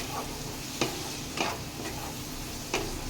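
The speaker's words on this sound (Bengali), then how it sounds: "যেই আমি চর্বিটা কেটে রেখেছিলাম, এই দেখো ছোট ছোট করে পিস করেছি, এটা আমি এর মধ্যে দিয়ে দেবো, দিয়ে এটা আমি ভালো করে কষিয়ে নেবো।" Chopped goat fat sautés in a pan for khichuri, a soft continuous sizzle broken by a few distinct scrapes and clinks of stirring, close up with no voices.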